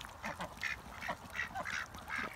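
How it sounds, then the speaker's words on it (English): Several ducks quack in short, nasal bursts at a moderate distance, fairly quiet against soft background noise. "Got some happy duckies here."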